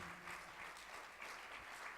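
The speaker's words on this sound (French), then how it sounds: "Si on peut applaudir, s'il vous plaît." An audience at a church gathering of evangelists and pastors claps together in steady, continuous applause, a dense patter of many hands heard at a moderate distance.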